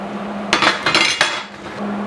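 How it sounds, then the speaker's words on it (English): A blacksmith's chop fuller tool dropped into an anvil hardy hole gives a few sharp metallic clanks and a brief rattle as it settles, close and loud over a steady low hum. "Now to use it in a hardy, you just drop it in."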